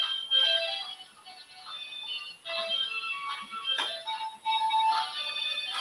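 Warbling electronic music from 1960s Doctor Who, The Macra Terror: shimmering high tones and bleeps that swell and fade in uneven bursts, with no talking.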